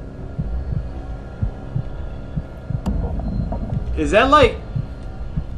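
A heartbeat pulses steadily at low volume in a first-person video game. A low hum runs underneath, and a voice speaks briefly over it near the end.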